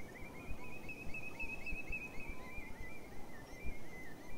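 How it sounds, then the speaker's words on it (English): A redshank calls repeatedly with a high, piping note at Otmoor, heard from a hide over steady wind and low rumble, moderately distant and fairly faint. "I love to hear redshanks calling."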